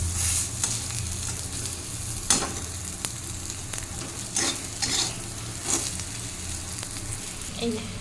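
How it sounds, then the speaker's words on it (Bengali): Soybean chunks fry in a hot pan with a steady, loud sizzle, broken by occasional scrapes and stirs of a utensil against the pan. "এই যে সয়াবিনগুলো ভেজে নিচ্ছি"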